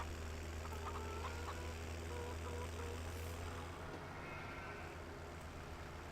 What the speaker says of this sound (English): Not run over too many of the chickens